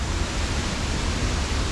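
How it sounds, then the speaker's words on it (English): Dodiongan Falls waterfall roars as a steady, dense broadband rush, loud and close, unbroken across the whole stretch with no voices. "One last shot of the waterfall behind me"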